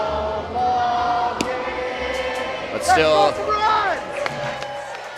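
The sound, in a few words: sellout baseball crowd of fans at a Seattle game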